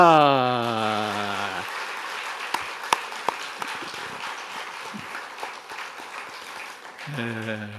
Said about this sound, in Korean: 인사할 때 큰 박수로 격려해 주세요